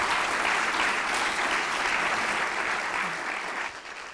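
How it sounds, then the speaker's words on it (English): A full room applauds the panelists at the Polk County State of the County 2023 event, the clapping dense and even, then tapering off in the final half second. "Can we have a nice round of applause for our panelists today?"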